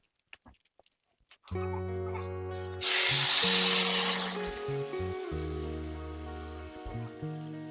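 Broth poured into a pan of frying salted fish curry with small fish, potatoes and beans gives a sudden loud sizzling hiss that slowly fades, heard under steady sustained musical tones.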